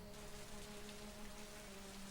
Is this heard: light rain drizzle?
yes